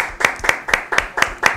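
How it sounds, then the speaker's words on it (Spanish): A few pairs of hands clap in a steady, quick rhythm, six claps up close with no voices. "un aplauso."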